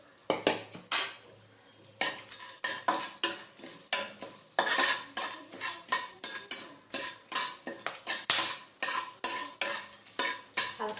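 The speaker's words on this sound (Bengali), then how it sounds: "হালকা একটু নেড়ে নেব।" Bay leaves and whole garam masala stirred in a cooking pan, a steady run of sharp, rhythmic scraping strokes of a spoon against metal, close and loud, with a faint sizzle beneath and no talking.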